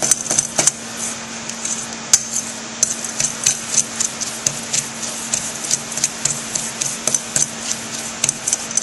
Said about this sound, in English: Now I'm using a fork because that helps me smash the butter, and then those little pieces of butter get coated with graham crackers